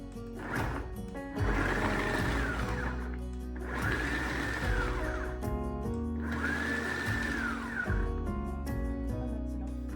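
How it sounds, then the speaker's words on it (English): A food processor fitted with an S blade briefly blitzes turmeric for a fire cider tonic, three loud whirring bursts of the motor rising and cutting off, with short pauses between them. "Into this I'm going to add in some of the turmeric, and I'm just going to blitz that ever so slightly."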